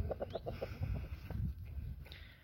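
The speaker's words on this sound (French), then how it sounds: "Petite poule, petit coq." Brahma hens and roosters cluck nearby in a quick run of short, rhythmic clucks, followed by lower, softer bird murmurs close to the microphone.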